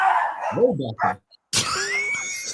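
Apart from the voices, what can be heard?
dog barking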